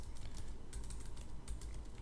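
Fingers tap steadily on a computer keyboard, a continuous quiet clatter of keystrokes close by with no voices.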